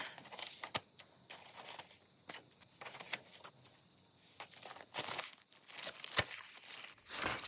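Vintage paper scraps rustled, crinkled and torn by hand while sorting through a box; repeated short tearing and crinkling bursts at close range with no talking.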